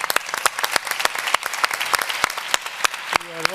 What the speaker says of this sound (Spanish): le demos un aplauso a la gente que nos ha aguantado durante un tiempo